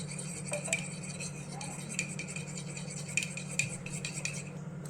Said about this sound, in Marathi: तीन चमचे तूप घालून घेऊया आणि हे मिक्स करून घेऊया